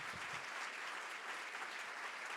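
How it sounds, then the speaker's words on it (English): An audience gives a panel a sustained round of applause, an even, dense, fairly distant-sounding wash of clapping with no talk. "Let's give them a big round of applause."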